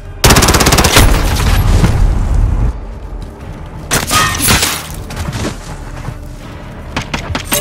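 Heavy gunfire in the video game Call of Duty: Modern Warfare: a loud, dense burst of rapid machine-gun fire and booms, a brief lull, then more clustered shots and bangs, close and intense.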